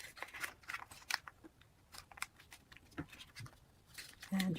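Paper is folded and creased by hand for an origami rose, with soft crinkles, rustles and short crisp taps up close, fairly faint.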